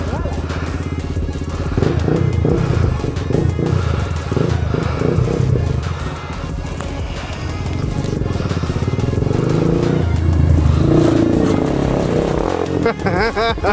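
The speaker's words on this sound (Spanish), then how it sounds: "la moto sube escaleras" An Italika DM 150 motorcycle climbing stairs, its engine revving and laboring in uneven bursts, rising and falling as it strains forward, with voices faintly mixed beneath the loud mechanical roar.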